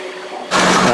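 A can of water pours into a large batch of buttermilk made from curd and water for a wedding meal, a steady splashing rush that starts abruptly halfway through and continues loud and close.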